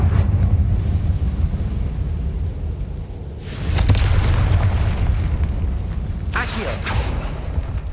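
A Confringo spell explodes in a Harry Potter video game: deep, rumbling booms with bursts of hissing debris over a constant loud low drone, and a second blast follows a few seconds later.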